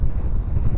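Wind buffets the microphone during a Hubsan X4 Air Pro GPS drone flight outdoors, a brief loud low rumble of gusty noise lasting under a second with no talk.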